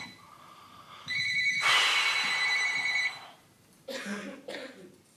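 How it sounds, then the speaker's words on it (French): Telephone ringing with a bright, sustained electronic ring lasting about two seconds, followed by shorter bursts of sound, fairly loud in a quiet room. "Oh, putain de téléphone."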